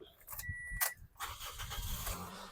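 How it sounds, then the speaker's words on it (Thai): A 2008 Toyota Altis 1.6G engine cranks briefly and catches on the first try, settling into a steady idle, with a light jingle of keys at the start. "สตาร์ททีเดียวติดนะครับ"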